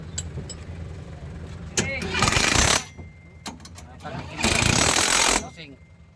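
A Japanese kei car engine idles nearby at a vehicle yard, then revs loudly in two strong bursts of a couple of seconds each, with a person talking between the revs.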